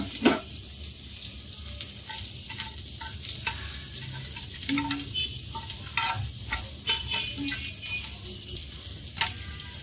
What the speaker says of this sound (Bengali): গরম মশলাটা একটু ভেজে নিচ্ছি